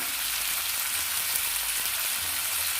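Chopped tomato fries in a hot pan for a spicy groundnut and potato sambar, giving a steady, close, even sizzle and crackle that runs the whole time with no talking.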